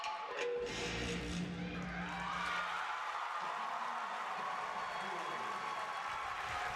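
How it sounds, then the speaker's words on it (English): Broadband clapping washes through at moderate loudness, a Cedar City crowd's applause for a gymnastics routine sustained over several seconds with some low rumble early on. "A healthy round of applause from a Cedar City crowd"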